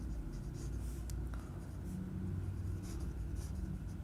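Pen writing out a maths equation for an integration problem, steady scratchy strokes running continuously over a low background hum, with no talking.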